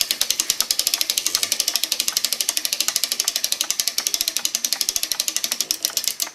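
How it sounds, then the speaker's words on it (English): Rapid, even ratcheting clicks of a winder turning as a clock mainspring, a Sessions loop-end spring, is wound back onto the arbor, a close, steady train of sharp ticks lasting throughout. "now we'll wind the spring back onto the arbor and we'll see the excess grease push out"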